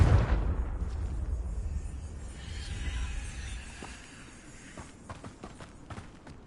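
A deep blast from the Confringo spell in Hogwarts Legacy erupts at the start, then its rumble decays over several seconds into quieter crackles and light footstep-like taps.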